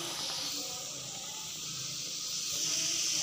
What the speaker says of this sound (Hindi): माशाल्लाह बहुत ही मज़ेदार से क्रिस्पी से यूनी से समोसे हमारे फ्राई हो रहे हैं